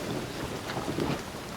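Rain falls in a continuous broadband hiss with a faint low rumble beneath, steady and fairly close, no voices over it.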